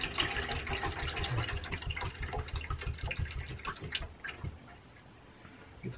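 A deep fryer being filled with liquid, giving a continuous pouring and gurgling wash of water-like sound that tapers off near the end, with no talking.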